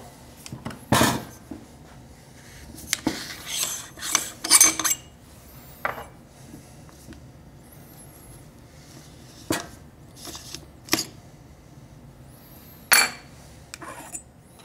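Parts of a DM47 coffee grinder handled, the top lifted off: scattered clinks and light knocks of metal and plastic pieces, a few sharper taps, in a quiet room.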